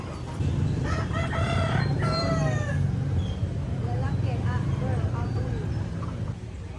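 Live roosters and hens for sale at a street-side stall in the Philippines crow and cluck amid a steady rumble of street traffic and background chatter, the birds fairly close and the noise continuous.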